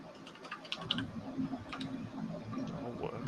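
Keys clatter on an old, faulty MacBook keyboard in quick, uneven clicks at close range, steady and moderately loud with no talking over it.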